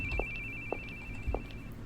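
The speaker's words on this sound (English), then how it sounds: "I ain't picking up the phone." A telephone rings in a horror video game, a steady electronic tone that keeps going with repeated bursts over a low rumbling background. It is faint and there is no talking.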